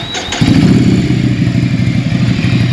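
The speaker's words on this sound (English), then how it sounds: "That's how the Scrambler Terminoni exhaust sounds like." A Ducati Scrambler Icon engine with a Termignoni exhaust fires up and idles with a deep, loud, throaty burble from a rumbling exhaust, close by.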